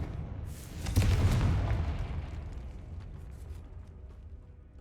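A Confringo spell explodes in Hogwarts Legacy with a single deep boom, then a rumbling tail that slowly fades.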